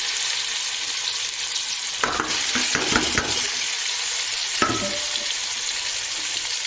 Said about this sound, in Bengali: হাই হিটে রেখে তিন থেকে চার মিনিট আমলকি তেল আর মশলাগুলো একটু আমি নাড়াচাড়া করে ভেজে নেব